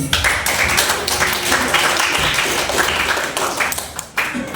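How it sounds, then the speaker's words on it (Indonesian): Classroom applause, with a group clapping in a dense, steady patter that fills the room, loud and close, with voices mixed in. "Oke, tepuk tangan buat kita semua ya."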